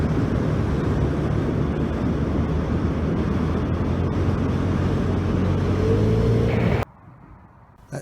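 Vespa GTS 300 scooter riding along a country lane, a continuous engine drone mixed with wind rush on the microphone, steady throughout before cutting abruptly to quiet near the end.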